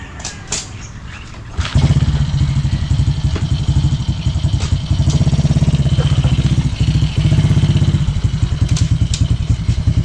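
A boat's motorcycle-type engine starts after a quiet opening, then runs steadily and loudly at close range with a rapid, even chug through the rest of the clip.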